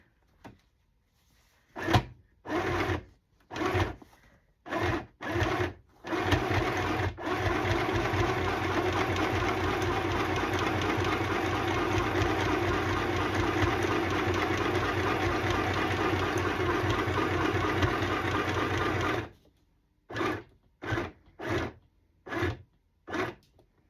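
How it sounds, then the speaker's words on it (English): A sewing machine stitches a handkerchief journal cover. Short bursts of stitching come first, then one long steady run, then more short bursts, all close and loud with no talk. "And then I go right back into sewing."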